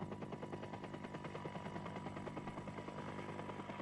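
Helicopter hovering over a 1995 Clásica San Sebastián road bike race, a steady loud rotor chop with rhythmic pulsing beats throughout, no voices.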